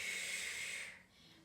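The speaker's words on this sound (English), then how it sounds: "Inhale and exhale." A single breath during a Pilates mat workout: a close, airy breath that holds steady for about a second, then fades into a softer breath, with no talking.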